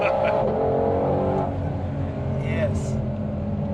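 A Ford Mustang GT500 Carbon Edition Track Pack accelerates hard, its engine a loud, steady, rising roar heard from close by throughout.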